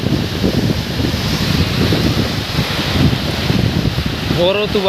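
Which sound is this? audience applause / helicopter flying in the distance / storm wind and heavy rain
storm wind and heavy rain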